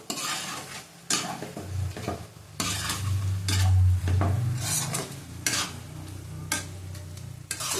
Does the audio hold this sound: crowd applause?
no